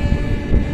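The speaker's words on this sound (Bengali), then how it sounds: "ট্রেন প্রচণ্ড গতিতে ছুটে চলেছে।" The Rupasi Bangla Express runs at high speed through foggy countryside, heard as a loud, continuous low rumble and roar of the moving train, close by and without voices.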